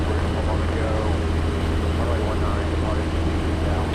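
A Piper SuperCub airplane engine drones steadily in flight, a loud constant low hum filling the cabin without letup.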